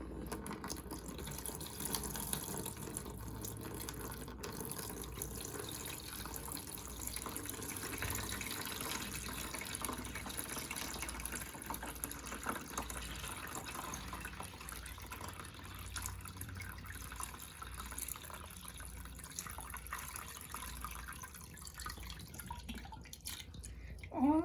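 Water poured steadily into a tank for a wave experiment, a continuous quiet splash and trickle that runs for the whole stretch with no voices.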